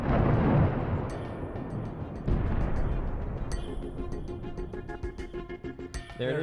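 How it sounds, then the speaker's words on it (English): A bullet is fired into a car tire: one sharp, loud blast at the start gives way to a decaying rumble, then scattered metallic clinks and ringing as things settle. "We're now gonna try to shoot a bullet into the tire and see what happens."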